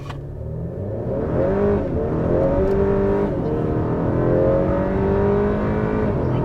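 Tuned 10th-generation Honda Civic on ethanol, 2018-2022, accelerating hard in first gear, its engine note climbing steadily and loud, close and alone.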